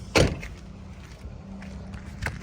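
A 2017 Toyota Etios GD car door shuts with one solid thump near the start, followed by quieter handling and rustle sounds close by. A second, softer knock comes near the end.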